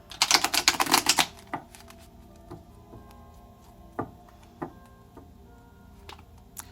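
Tarot cards riffle rapidly in a burst of crisp fluttering, followed by scattered light taps and clicks as they are handled.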